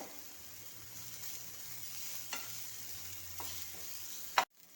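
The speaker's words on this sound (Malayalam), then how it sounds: "ഇതിലേക്ക് 1 നുള്ളു ഉപ്പ് കൂടെ ഇട്ട് വഴറ്റണം" Curry ingredients sauté in a pan with a pinch of salt, giving a faint, steady sizzle broken by a few soft stirring scrapes, then a sharp clack just before the sound cuts off.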